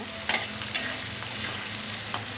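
Soybean chili fries hard over a full gas flame, giving a loud, dense sizzle with a few sharp clicks as it is stirred.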